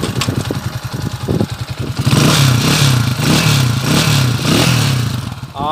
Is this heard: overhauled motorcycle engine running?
yes